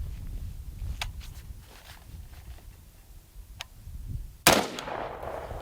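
A Brownells BRN-180 Gen 3 piston rifle fires unsuppressed on its adverse gas setting: one loud, abrupt crack with a lingering tail, preceded by a few faint clicks and handling noises.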